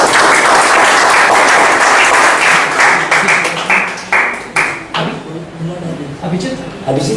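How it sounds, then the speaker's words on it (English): An audience at a youth program event claps loudly in a dense, sustained round of applause that gradually thins into scattered individual claps toward the end, with faint voices underneath. "Give a big round of applause."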